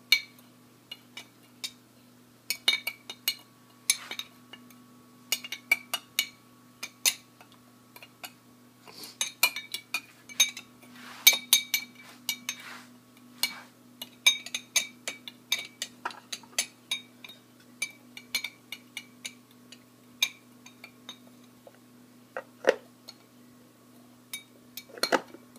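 A spoon clinks lightly and repeatedly against a glass while mixing a Draque cocktail, the mojito ancestor, with mint, in irregular bursts of small taps over a faint steady hum.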